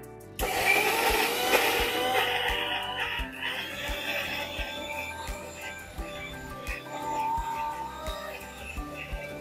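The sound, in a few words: mixer grinder grinding spice paste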